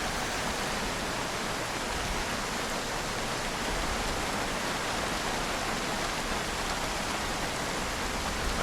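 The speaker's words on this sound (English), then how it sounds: "That rain is so loud." A zombie video game's downpour roars on as a dense, unbroken wash of rain noise. It holds at a constant level throughout, with no talking on top.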